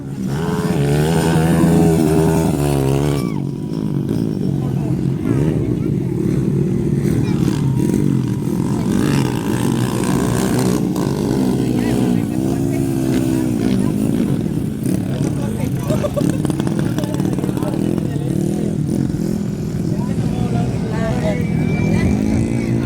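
Motorcycle engines at a street drag race in Poblacion, a loud continuous buzzing roar with revving swells throughout, close by, under an excited announcer's voice and crowd chatter.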